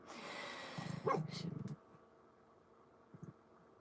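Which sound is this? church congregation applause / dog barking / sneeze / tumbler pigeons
dog barking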